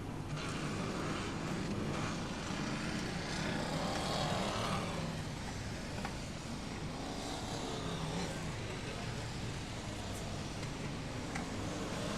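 BriSCA Formula 1 stock cars race at Long Eaton, a constant roar of many engines revving and swelling from across the track, heard at a distance as one dense wash of sound.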